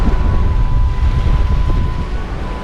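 A warm sirocco wind blows steadily across the Spiaggia del Principe beach on Sardinia's Costa Smeralda, a loud, constant rumbling rush against the microphone.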